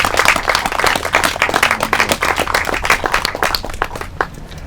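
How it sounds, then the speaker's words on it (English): An outdoor audience at an urban farm groundbreaking ceremony claps in a dense, lively round of applause that gradually thins out toward the end. "Give Deborah another big round of applause."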